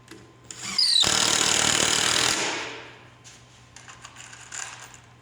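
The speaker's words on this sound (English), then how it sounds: "finish screwing it on" A power drill drives a screw into a piece of an upper cabinet in one loud, close whir lasting about two seconds, which then drops away to faint handling noise.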